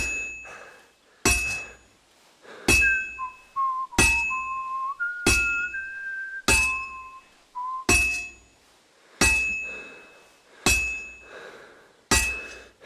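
Hammer strikes on hot metal at a blacksmith's anvil in the video game Kingdom Come Deliverance 2, ringing in about nine sharp, evenly spaced clangs with bright metallic decay, joined by a soft whistled tune in the middle.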